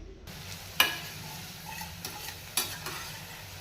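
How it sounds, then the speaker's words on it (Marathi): Red chilli powder, coriander powder and kala masala dry-roasting in a pan for a foxtail millet khichdi, a steady low sizzle with a few soft scraping stirs and clicks of the spoon close by. "हे सर्व मसाले एक मिनटासाठी भाजून घेऊया"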